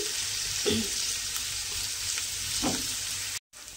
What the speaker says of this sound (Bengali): আলুটাকে এইভাবে একটু সময় নিয়ে ভেজে নিচ্ছি